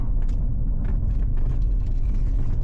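A modified 2016 Jaguar F-Type R on the move, a loud steady low engine and exhaust rumble heard from inside the car, constant throughout with no speech.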